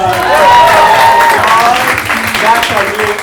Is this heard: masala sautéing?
no